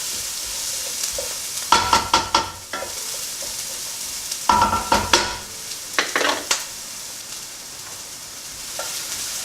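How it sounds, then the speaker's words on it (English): Garlic frying in a pan for biryani, a soft continuous sizzle broken by two bursts of rapid clattering stirs, close and fairly loud, no talking. "So keep it moving around as well, guys. I don't want to burn the garlic because it's in the pan."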